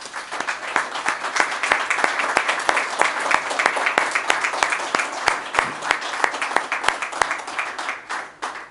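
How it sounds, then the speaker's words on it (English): An audience at a state governor's anniversary event applauds telephone call agents with a dense, steady round of clapping close by that thins slightly toward the end. "Please join me in a round of applause for these hope makers."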